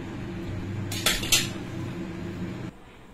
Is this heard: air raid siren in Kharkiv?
no